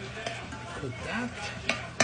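Noodles with garlic, pepper and soy sauce stirred in a frying pan, with a soft sizzle, scraping and a couple of sharp utensil clinks against the pan, close by.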